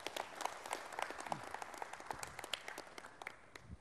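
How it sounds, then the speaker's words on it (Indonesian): Modest audience applause for Kiai Haji Didin at a Ramadan religious talk, quiet scattered clapping with distinct individual hand claps over a low hum. "Kita beri tepuk tangan buat Kiai Haji Didin."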